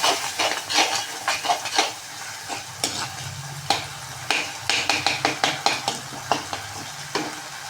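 Onion, chilli powder and turmeric sautéing in oil for vathal kuzhambu, with repeated sharp spoon scrapes and taps against the pan over a soft background sizzle, loud and close, in an irregular stirring rhythm.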